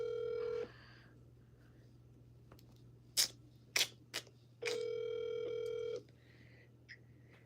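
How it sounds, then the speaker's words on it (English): Telephone handset placing a call: a steady dial tone, then several sharp key presses, followed by a longer sustained tone and a brief final beep, clear and close with no talking. "Let's make a phone call."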